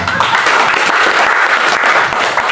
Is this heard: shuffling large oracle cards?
no